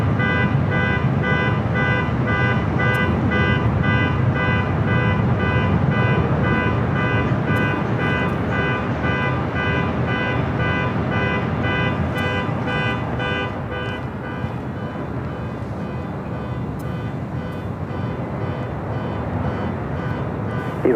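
A loud, sustained, tonal blaring like a car horn or alarm sounds near Los Angeles LAX airport, holding steady for the whole stretch and dipping slightly toward the end, with no talking.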